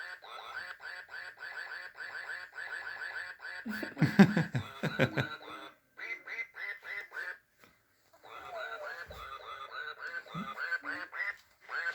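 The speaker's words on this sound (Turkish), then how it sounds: "Ah, susmuyor da devam ediyor şarkıya." A toy duck keeps quacking a tinny melody in steady bursts, briefly overlapped by laughter and talking before the tune continues.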